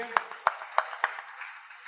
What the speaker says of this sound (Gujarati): દીકરીના કોન્ફિડન્સ માટે એકવાર તાળીઓ હોવી જોઈએ.